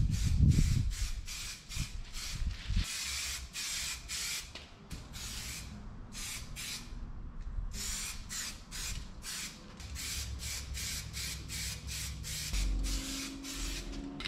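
An aerosol can sprays primer onto the body of a 1961 Chevy wagon in a makeshift paint booth. Close, hissing bursts come in a steady series of short and longer pulses with brief gaps between them.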